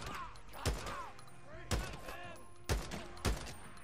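Automatic weapons fire in the video game Days Gone during a fight with bandits, four sharp bursts spaced about a second apart over a busy game soundscape.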